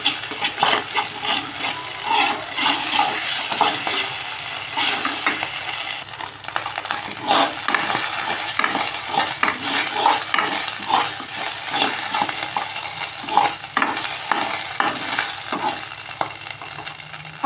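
Pumpkin leaf mash being stirred as it fries in a pan, with repeated scraping strokes over a steady close sizzle throughout.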